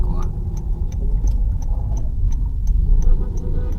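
A car engine idles in heavy traffic with a steady low rumble, while a turn-signal clicks in an even rhythm and a voice speaks over it.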